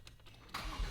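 Porsche 911 Turbo under rebuild, its starter whirring as the engine tries to catch, a short burst of cranking that swells loudly in the second half after a quiet moment.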